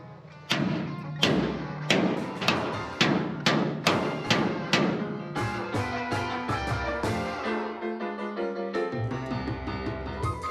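Sharp metallic taps of a small hammer on a steel boat hull during repair, a quick run of about ten strikes followed by a denser ringing clatter of lighter taps.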